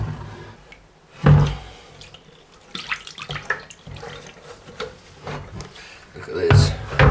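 Water sloshing and splashing while a tub holding beer sediment left from a barrel is cleaned out, intermittent close splashes and knocks with a person talking over parts of it.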